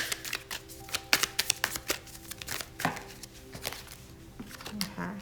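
A deck of tarot cards is shuffled by hand, making a quick irregular run of crisp slaps and riffles, close and fairly loud, with faint talk underneath.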